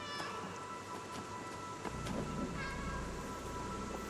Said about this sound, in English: there's a vocalization button just to make sure that yep, this orange cat is cute. It can make cute cat sounds